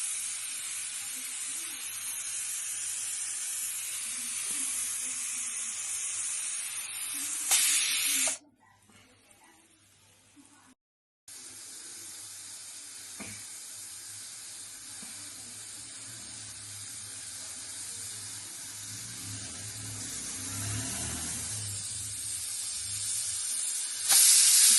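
A pressure cooker on a gas stove, cooking village-style mutton curry, vents steam in a loud, sustained hissing whistle that runs on with a brief cutoff, close and without speech.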